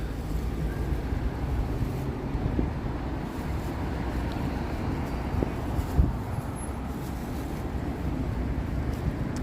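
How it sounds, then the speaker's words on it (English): Gusty wind rumbles steadily across the microphone on a city street in Toronto on an evening walk, a continuous low roar with occasional soft thumps. "A bit on the windy side, but nothing too crazy."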